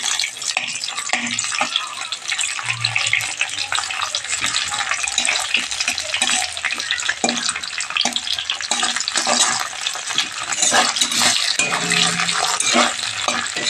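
Cauliflower pakoda mixture being stirred in a hot pan, with a dense, continuous loud sizzle and frequent scraping strokes of a spatula against the metal. It is close and busy throughout, with no talking.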